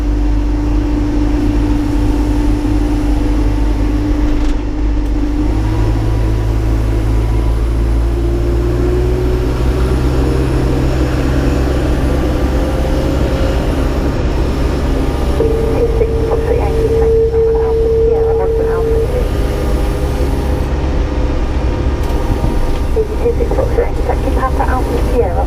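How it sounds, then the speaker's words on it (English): Boeing 787-9 jet engines spooling up during pushback, a loud continuous low roar and whine that rises and shifts in pitch throughout, with radio and cockpit voices talking over it. "we're just going to have to start another 2 engines"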